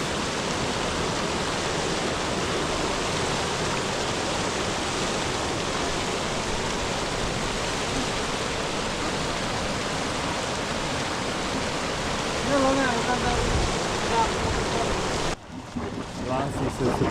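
A pair of hot spring waterfalls in a famous Chinese natural park with a cone-shaped crater, heard as a steady, broad rushing roar of falling water that stays constant and loud before cutting off abruptly near the end.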